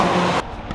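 A race car at the 24 Hours of Le Mans, loud and close, roars past with a high engine whine that cuts off abruptly as it moves away.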